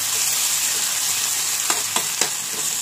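Vegetables, carrots, chickpeas and potatoes with ginger-garlic paste frying in a hot pan, a steady loud sizzle with three quick stirring scrapes near the end.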